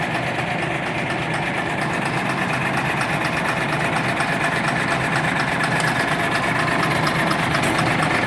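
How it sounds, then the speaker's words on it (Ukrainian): A MAN truck's D0826 LOH18 diesel engine, rated 260 hp, idles just after its first start, a loud, steady low rumble with an even mechanical throb and a slight rise in level, and no voices. "Завели ми мана 106 150 з мановським мотором"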